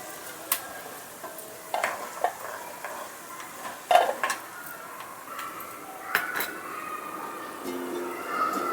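Coriander seeds and cumin dry roasting in a pan, with soft scraping stirs and light clinks of a utensil against the pan, quiet and close, no talking.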